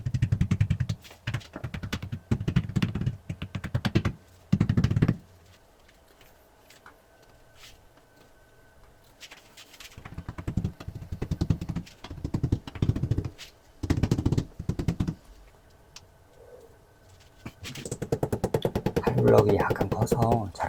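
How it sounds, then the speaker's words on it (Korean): A hammer taps plastic wall anchors into a bathroom tile wall, delivering irregular bursts of sharp, close knocks separated by quiet gaps, with a clatter of handling near the end. "칼블럭 넣고 망치로 두드려줬습니다."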